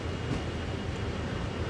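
A CSX heavy-haul freight train coasting in the simulator Train Sim World, giving a dense, steady rumble of rolling wheels and rail noise, loud and unbroken.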